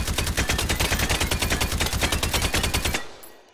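A suppressed Russian-style gun in the VR game Hot Dogs, Horseshoes & Hand Grenades, firing a rapid continuous burst of evenly spaced muffled shots for about three seconds, then stopping abruptly and fading out.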